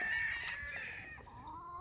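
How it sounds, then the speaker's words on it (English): Hens settled in newly moved pens cluck steadily and close by, with a continuous layered chorus of calls and a few sharper squawks throughout. "these hens here, they're enjoying their new pens."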